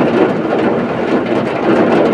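Rain drums steadily on the metal cabin roof of a Suzuki New Carry, a dense, continuous close-up patter with a low rumble and no pauses.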